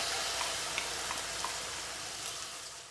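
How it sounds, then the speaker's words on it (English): Onions sautéing in olive oil in a pan for lentil soup, a soft, steady sizzle with faint scattered pops, heard alone at low level. "Saute our onions."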